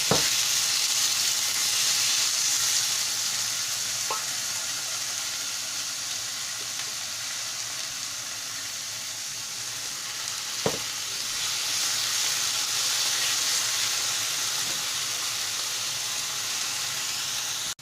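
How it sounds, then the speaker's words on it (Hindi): Saag leafy greens fry in oil in a pan for a Bihari achari saag, a steady close sizzle and hiss lasting throughout, with a few faint stirring clinks and no talking. "आपको जितना भी खाना हो उसी के अकॉर्डिंग आप साग को भून लीजिएगा।"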